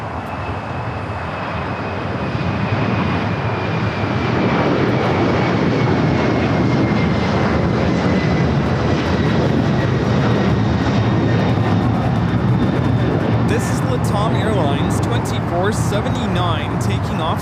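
A Boeing 767-300ER takes off from LAX bound for Lima, Peru, a loud, sustained jet roar building in the first seconds and holding strong, with a high engine whine and people talking over it.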